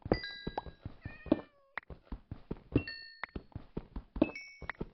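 Several cats meow in quick succession in the video game Minecraft over a backdrop of rapid clicks and taps, the meows bright and close.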